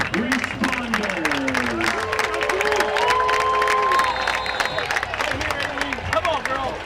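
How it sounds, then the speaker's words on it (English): High school football crowd applauding first responders during a North Penn Knights at Neshaminy Redskins game, sustained clapping and cheering from a large stadium audience under an amplified announcer's voice and music. "please join on a big round of applause for our incredible first responders"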